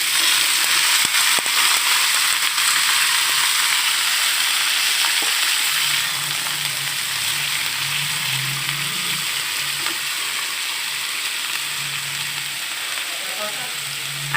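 Chopped snake gourd with turmeric and salt sizzles steadily in hot oil in a pan, a continuous dense frying hiss that eases slightly partway through, with faint low stirring bumps.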